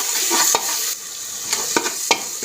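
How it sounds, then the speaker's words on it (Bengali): Ground turmeric sautéing in a hot oiled pan while chickpeas are cooked, a steady bright sizzle broken by several sharp scraping stirs of a spoon, close and fairly loud, with no talk. "একটু হলুদটাকে কষিয়ে নিয়েছি।"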